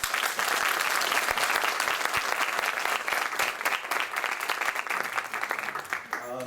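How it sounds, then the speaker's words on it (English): Audience applause after devotional bhajan music and a talk, a full, steady burst of clapping that carries on for several seconds before tapering as a voice begins at the end. "Another round of applause."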